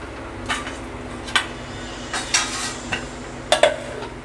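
A lid is set onto a cooking pot of potatoes boiling for chicken kosha, giving a handful of short metallic clanks and clinks spread out over a faint steady kitchen background.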